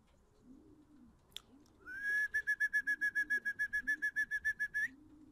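A pigeon gives a long run of rapid, rhythmic whistled notes, about a dozen pulses in quick succession, fairly close and clear against a quiet background.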